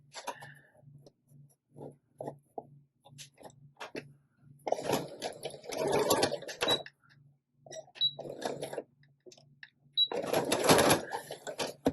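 Domestic sewing machine stitching lace for a junk journal pocket, running in short bursts with a faint steady hum between, quiet stretches and a few louder fast runs.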